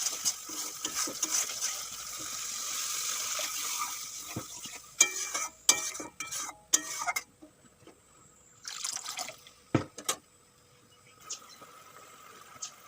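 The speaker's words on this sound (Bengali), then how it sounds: "এখন আমি জল দিয়ে দেবো" Water poured into fried spice paste for a tilapia fish curry, a steady frying sizzle at first giving way to sharp spoon clinks and splashy stirring with trickling liquid, then a quieter simmer with scattered knocks.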